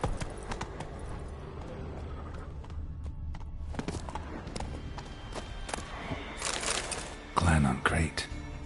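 The horse Roach galloping in The Witcher 3, a rhythmic clip-clop of hooves running at speed with cracking hits and a louder flurry near the end, while someone talks over it.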